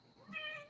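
A cat gives a single short meow, rising and then tapering off in under a second, close by and fairly quiet against a still background.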